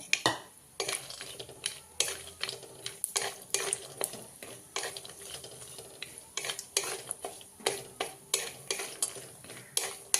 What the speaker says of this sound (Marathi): तूप गरम झालेला आहे सर्वप्रथम आपण काजून बदाम त्याच्यावर चांगले भाजून घेऊया